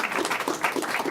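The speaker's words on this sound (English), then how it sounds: "Can you give her a round of applause?" A brief burst of audience clapping at a live-streamed talk, steady and fairly even, with no voices over it.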